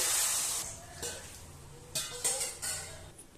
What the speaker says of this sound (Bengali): এবার আমি গরম জল কিছুটা অ্যাড করে দিচ্ছি